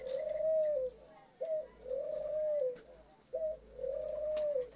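Turtle doves, including a female wanting to nest, give three repeated soft cooing phrases at a steady rhythm, close and clear with no talk.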